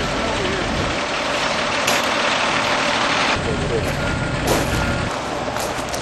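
A forklift engine runs loudly and steadily, with a repeating reverse-warning beep sounding over the constant mechanical roar.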